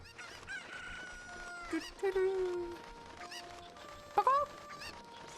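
Chickens clucking and a rooster crowing in a video game, several short bird calls rising over a low steady game background, with faint talk beneath.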